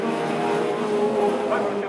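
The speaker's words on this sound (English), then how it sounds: "Jonathan Manyweathers coming round on his final lap looking for another checkered flag" A stock rod race car, a Nova-type track racer, roars steadily around the circuit on its final lap, a loud continuous engine drone close by with a faint tire squeal, while a commentator talks over it.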